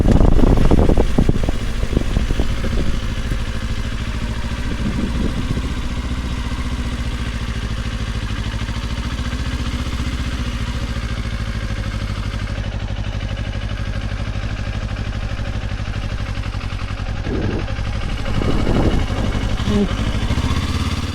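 A motorcycle engine drones steadily during a ride by a beginner on a bike still in its break-in period, with a low continuous hum and wind rush, louder at the start and again near the end.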